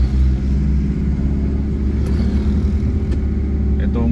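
Road traffic on Asin Road in Baguio, a steady close engine rumble of idling and slow-moving vehicles that holds throughout, with a few faint higher clicks over it.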